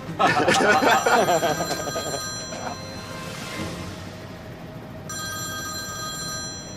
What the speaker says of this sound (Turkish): Çatışma alanından topladığımız telefonlardan biri çalıyor.